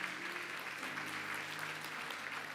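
A church congregation applauds during a sermon, a steady, even clatter of many hands sustained throughout.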